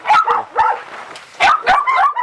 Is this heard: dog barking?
yes